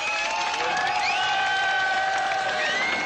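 A crowd at the Berlin Wall applauds as East and West border guards meet, with dense clapping mixed with cheering, shouts and whistles, loud and continuous throughout.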